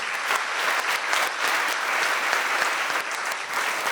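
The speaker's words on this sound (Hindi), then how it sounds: "इन सभी लोगों के लिए जोर से ताली बजाड़ो तुम्हें" A large gathering at a school event in Gandhinagar, Gujarat, claps loudly for the principal and staff, with dense, continuous applause holding steady throughout.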